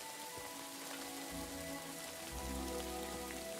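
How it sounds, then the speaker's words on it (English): Steady rain pouring down in the medieval world of Kingdom Come: Deliverance II, a dense even hiss of drops on surfaces with a low rumble swelling in and out beneath it. "They're just sitting outside in the pissing down rain."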